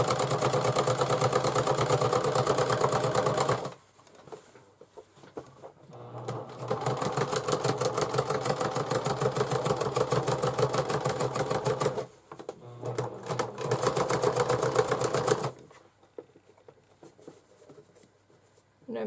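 A sewing machine fitted with a denim needle stitches through thick layers of bag fabric in loud, rapid bursts, stopping briefly between runs as the work is turned at a corner.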